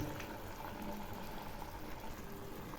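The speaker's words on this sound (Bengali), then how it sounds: "এখন আমি দইয়ের বাটির জলটা দিয়ে দিলাম" Water from a bowl of curd poured into a pan of cooking curd for doi begun, a soft, steady sizzling and bubbling wash that stays even and fairly quiet throughout.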